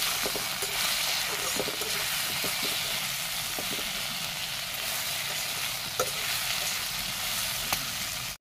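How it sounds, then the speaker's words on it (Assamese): A steady, close sizzle of spices with turmeric and salt frying in oil, with occasional faint scrapes and taps of stirring throughout. "ভাজি লৈছোঁ"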